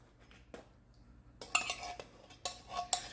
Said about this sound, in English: We'll just give that a quick stir.